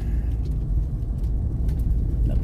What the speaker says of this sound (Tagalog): napakaraming labas-pasok na mga sasakyan dito